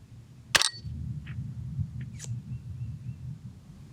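Single sharp, close crack from a Savage A22 Pro Varmint rifle fired at long range, followed by a low steady outdoor rumble and a couple of faint clicks.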